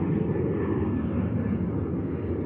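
Fixed-wing airplane near San Diego airport on the harbor, a steady broadband engine roar holding even and moderately loud throughout without talk.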